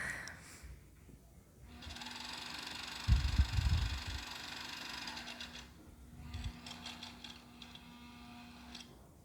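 A foot-pedal sewing machine stitches a retro blouse, running in one steady mechanical whir for several seconds, with a brief louder thump partway through.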